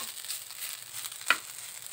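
Sangag, Filipino garlic fried rice, stirred in a pan: a soft, steady sizzle with a faint scrape, plus one sharp clink of the utensil against the pan near the end.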